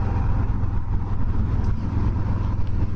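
A 2020 Harley-Davidson Softail Street Bob 107 motorcycle under way, its steady low engine drone and road rumble filling the mix continuously at close range without speech.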